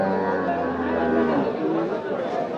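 Beef cattle low and moo at a busy market, a long harmonic call rising over crowd chatter and talk for a couple of seconds.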